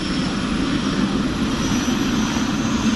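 A helicopter spinning up before a flight to Fox Glacier, New Zealand, with a loud, steady roar of turbine and rotor noise that stays constant throughout, close by and with no voices.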